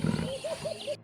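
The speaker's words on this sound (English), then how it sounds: "A roar shatters the silence of the savanna." A leopard on the savanna gives a short rasping roar, a quick series of four pulsed grunts that sound fairly close and stand alone.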